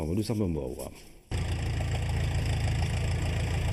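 A farm tractor engine idles steadily and loudly at close range on a 150-hectare farm in Senegal, its low rumble continuing without a break after a brief voice at the start.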